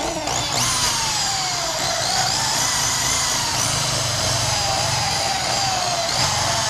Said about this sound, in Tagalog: natapos na natin barinahan at lagyan ng mga rib nut